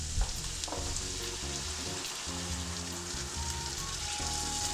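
Spicy sausage mixture fries in a pan with a steady, close sizzle and occasional stirring, continuous and moderately loud with no talking, cooking for a pumpkin pasta dish.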